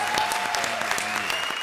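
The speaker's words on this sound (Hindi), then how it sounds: "जोरदार तालियां धर्म जी," A studio audience on a comedy show claps loudly for the actor Dharmendra, a brief burst of dense applause with a faint musical tone running beneath it.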